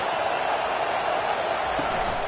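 A dense, steady roar from a stadium crowd at a football game, a constant wash of cheering noise with no breaks across the short stretch.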